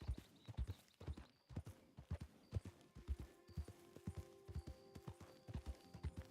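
In the Red Dead video game, horse hooves clip-clop at a steady walking pace, crisp and close, with faint tonal game sounds in the background and no talking.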